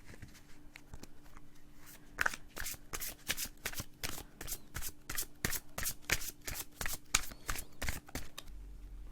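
Tarot cards are shuffled up close in a steady run of quick papery riffles and flicks, each burst crisp and distinct, with no talking.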